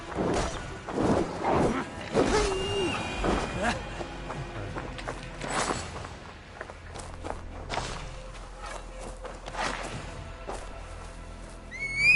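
Horse in the video game Assassin's Creed Valhalla whinnies amid hoof clip-clop and footsteps, with game sounds and someone talking over it.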